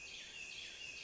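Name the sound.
northern cardinal song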